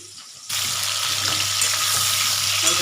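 Chopped potatoes for aloo dum dropped into hot oil, bursting into a loud, broad crackling sizzle after a brief quiet start, then holding steady and close.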